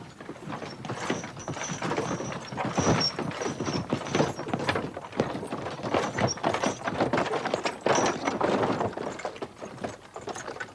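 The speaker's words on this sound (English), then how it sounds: "they travel at walking pace, with the farmer leading the horse." A horse led at walking pace pulls an old local tip cart along a farm track, hooves clip-clopping in a steady, even rhythm alongside creaks and rattles from the cart throughout.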